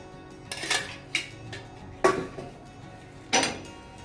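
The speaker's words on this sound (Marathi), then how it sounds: "हे लोखंडाचा तवा टाकलेला आहे आपण" A heavy iron griddle clatters and clanks several times, sharp knocks spaced apart, close by in a quiet kitchen.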